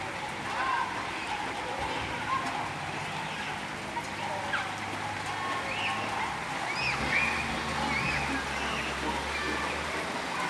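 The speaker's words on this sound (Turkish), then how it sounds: "Yeni başladı yağmur." A fresh afternoon rain begins over a home on a warm day, a soft, even hiss of drops on surfaces in the background, with occasional bird or fowl calls piercing through.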